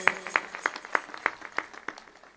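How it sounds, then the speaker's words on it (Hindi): An audience at a Haryana Day celebration claps to welcome a guest, with a run of sharp, evenly spaced claps that spread into a looser patter of scattered applause. "मैं चाहता हूं जोरदार तालियों से उनका स्वागत करें।"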